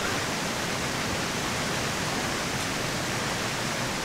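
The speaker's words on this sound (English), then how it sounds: "the effect when the waterfall covers your face as you run under it, it's amazing" A waterfall in the jungle survival game Green Hell rushes down over the player, a dense, loud, unbroken roar of water holding steady from start to finish with no talking.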